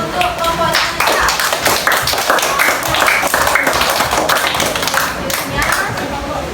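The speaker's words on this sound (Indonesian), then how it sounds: "Berikan tepuk tangan untuk kelompoknya Anissa." A primary school classroom bursts into applause for a student group, many small hands clapping fast and loud in a dense rapid patter, with children's voices mixed in.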